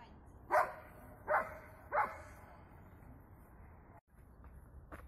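Dogs training in protection work bark three times in sharp single barks spaced under a second apart, heard at a moderate distance outdoors over a faint background hum.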